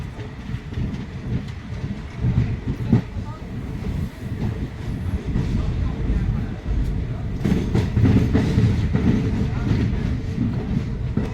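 A passenger express train rumbles and clatters steadily at Hasimara station, with occasional metallic knocks and faint voices in the background.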